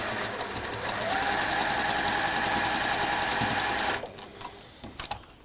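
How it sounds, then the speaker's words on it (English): A sewing machine runs steadily along a diagonal seam through quilting fabric, a close, even motor whir with rapid needle rattle for about four seconds before stopping abruptly, followed by a few faint handling clicks. "we're going to sew along the diagonal marked line"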